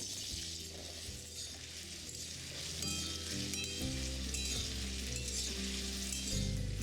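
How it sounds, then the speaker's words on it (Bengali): Potatoes frying in mustard oil: steady frying sizzle with crackling oil throughout, a low hum underneath and occasional clinks; no one speaks. "তেলটা গরম হলে যে আলুগুলো আমরা কেটে রেখেছিলাম সেটা এখানে দিয়ে দেবো"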